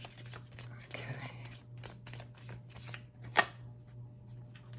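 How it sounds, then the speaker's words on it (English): Tarot cards are shuffled by hand in a quick riffling flutter with soft slaps and rustles, close and fairly quiet, with one sharper snap near the end and a low hum underneath. "Give me a few more cards on Tom Homan."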